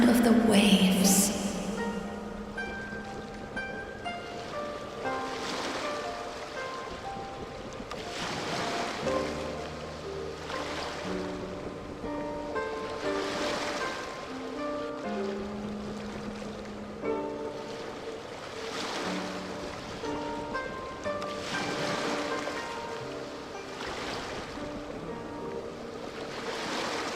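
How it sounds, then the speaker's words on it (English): Ocean waves rolling onto the shore in repeated swells every few seconds, with wind buffeting the microphone throughout and no voices. "Go to where you can hear the sound of the waves."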